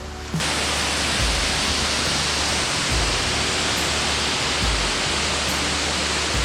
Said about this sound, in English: There are some hidden waterfalls that we only found by following the sound of the water crashing down.